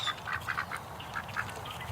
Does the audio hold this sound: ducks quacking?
yes